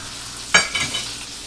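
Chicken pan-frying in vegetable oil gives a steady close hiss, broken by a sharp crackling burst as pieces are stirred or moved in the pan.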